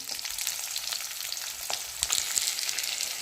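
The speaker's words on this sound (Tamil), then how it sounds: "ரெண்டு மிளகு ஜீரகம் ரெண்டு வரமிளகாய் கொஞ்சம் வெங்காயம் போட்டுக்கலாம்" Pepper, cumin, dried red chilies and onion frying in oil, a steady bright crackling sizzle close up with a few soft stirring knocks, no talking.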